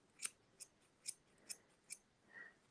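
Scissors snip through yarn while trimming a half-and-half pom-pom, five or six crisp, close cuts spaced about half a second apart, quiet and alone with no voices.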